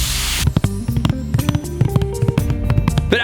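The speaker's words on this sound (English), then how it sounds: "Here's what the box sounds like." A Nike shoe box is handled up close, with a burst of rustling followed by a run of sharp cardboard taps, knocks and scrapes in an irregular rhythm, loud and close with no talking.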